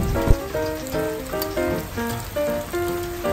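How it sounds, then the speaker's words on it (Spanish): Steady morning rain in Sardinia patters on a surface nearby, a constant hiss of drops with one sharp tap near the start, while faint tones sound in the background. "Y a la mañana siguiente amaneció lloviendo."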